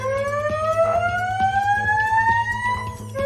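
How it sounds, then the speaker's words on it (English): A fire alarm siren wails continuously with a slowly rising pitch, loud and steady, alongside rhythmic mechanical ticking in the background. "Fire alarm."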